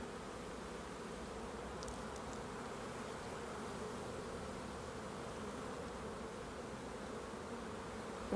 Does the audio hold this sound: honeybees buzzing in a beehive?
yes